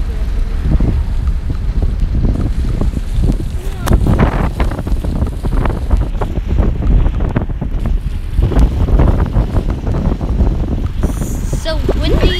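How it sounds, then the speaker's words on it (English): Wind blows in the My Talking Tom Friends video game, a loud, rough, constant rushing and buffeting with low rumble and sudden gusts throughout, like wind striking a microphone by the sea. "So windy."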